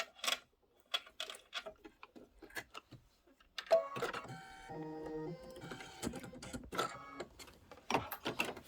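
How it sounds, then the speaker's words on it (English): An embroidery machine stitches at close range in rapid rhythmic bursts of clicking and whirring, broken by short pauses and a brief run of higher tonal beeps partway through. "This is 2 minutes of stitching"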